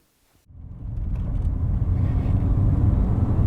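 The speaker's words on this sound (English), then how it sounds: "extract as much sound as I could out of that epic KV engine" Restored Audi Coupe GT with the KV engine pulling away under throttle, silence first and then a rising, rumbling drone building steadily in loudness from the cabin.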